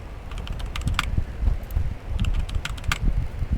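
Rapid keystrokes on a computer keyboard while a password is entered, a steady close clatter of clicks running throughout with no talk.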